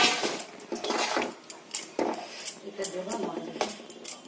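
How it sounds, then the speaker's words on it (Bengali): Prawns go into a boiling curry in a pot for a Bengali malai curry, heard as close clattering of utensils against the metal pot with light splashing and clinks, steady and busy throughout. "দিয়ে দিচ্ছি চিংড়ি মাছগুলো"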